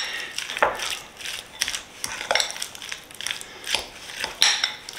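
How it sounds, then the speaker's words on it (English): A spoon working through a thick cream cheese mixture for a game day appetizer, giving irregular scraping and crunchy squelching strokes against the bowl, close and moderately loud with no talking. "And we're just going to mix this all around till everything's incorporated."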